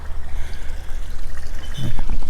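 Water from a small stream trickles and pours steadily outdoors, a close, continuous babble with a brief low thump near the end.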